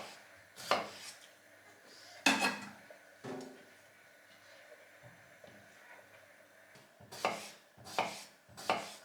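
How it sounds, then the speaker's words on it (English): A kitchen knife cuts potatoes on a board with a few separate, fairly faint chops spaced out over several seconds, plus a short cluster near the end. No one speaks. "cutting potatoes is, well, super easy task"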